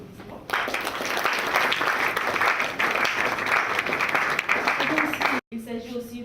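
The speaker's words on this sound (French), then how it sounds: "sous vos applaudissements" Sustained applause from a crowd, steady and fairly loud for several seconds, stopping abruptly before a voice begins speaking.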